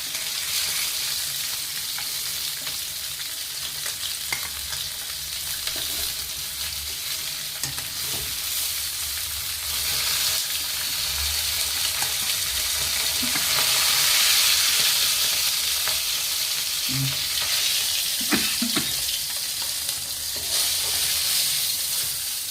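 Steady oil frying in a pan, with garlic being fried for a fish and cauliflower curry, a constant crackling sizzle with occasional louder pops and clinks, continuing without any voices.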